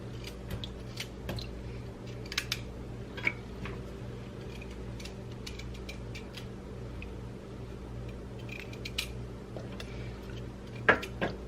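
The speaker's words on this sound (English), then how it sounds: "When you get to the thicker part of the carrots, I'm gonna cut it smaller." Knife cutting the thicker parts of carrots into smaller pieces while cooking a beef roast: sparse, faint taps and clicks on a cutting board over a steady low kitchen hum, with no talking.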